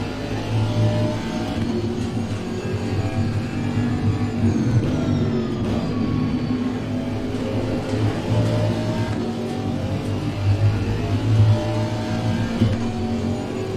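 A racing car engine in a sim racing game drones steadily and loud, its revs rising and falling through corners over about fourteen seconds, with no talk.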